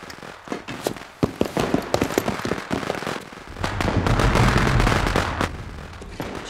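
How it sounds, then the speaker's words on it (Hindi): Firecrackers set off at a wedding, a rapid run of loud sharp cracks and pops, then a dense continuous crackling roar near the end. "शादी है, पटाखा जला रहे।"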